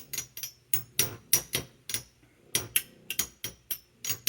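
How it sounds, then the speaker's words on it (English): Rapid, irregular metallic clacks and clinks of Beyblade spinning tops colliding metal on metal, sharp bright hits coming in quick bursts, close and fairly loud, no talking. "You can hear there's a lot of metal on metal contact, even though there's that height difference."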